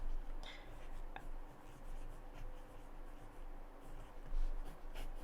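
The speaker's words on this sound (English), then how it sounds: "I'm going to quickly write it down" A pen scratches across paper as a quick note is jotted down at a scrapbooking desk, steady close scribbling strokes with small taps over a low background hum.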